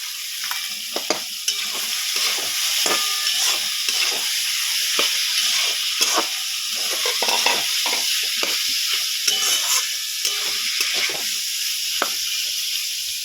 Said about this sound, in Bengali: বিন কড়াই বেশি না ভাজলেও চলে যাবে, অসুবিধা নেই, হালকা করে ভাজাটা হলেই হয়ে যাবে।